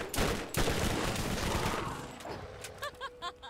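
Gunfire from a weapon in the Borderlands video game, a burst of rapid shots up front that trails off into quieter game sounds and a few short electronic blips toward the end.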